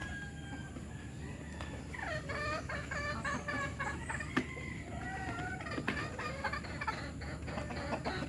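Rhode Island chickens in a backyard flock cluck and call at moderate distance, a busy overlapping run of repeated clucks over a constant background hum, with no talking.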